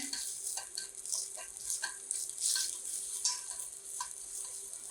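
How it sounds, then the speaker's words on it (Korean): Abalone stir-frying in a hot pan for a butter-grilled dish, with a steady close sizzle and repeated scraping, stirring clicks from a utensil against the pan, and no voices. "팬이 달궈지면 1번은 전복이 들어가요. 전복 들어가서 볶아주세요."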